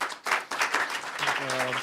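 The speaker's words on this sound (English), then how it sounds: "Offer him a round of applause" Audience applause after a speech at a Horizon Europe research event: steady, dense clapping from a crowd throughout, with a voice beginning to speak over it near the end.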